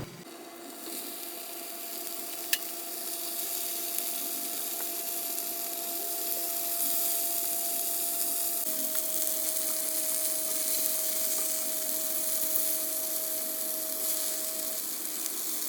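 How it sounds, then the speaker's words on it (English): Marinated fish shallow-frying in hot oil in a pan gives a steady, close sizzle that holds constant throughout, with a faint tonal hum running beneath it. "I will turn the side of the fish and I will fry until they are golden brown."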